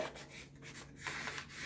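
Paper being folded for an origami seed-starting pot, a soft close-up rubbing and creasing rustle, faint and brief with a slight scrape as the fold is pressed down.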